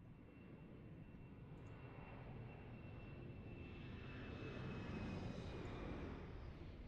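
A TAP Express airliner departs Lisbon Airport on a flight to Brussels, its engines a steady, broad roar that swells gradually and peaks near the end, with no voices.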